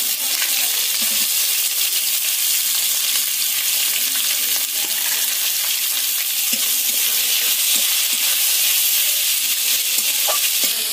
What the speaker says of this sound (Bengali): তেলের মধ্যে দিয়ে দিচ্ছি পেঁয়াজ কুচি,